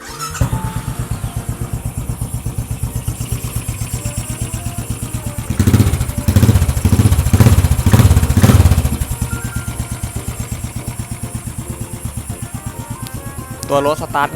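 Royal Enfield GT535 motorcycle from 2017/18, customised in tracker style with an aftermarket exhaust, idling with a steady close thumping beat and a brief surge of revving in the middle before settling back to idle.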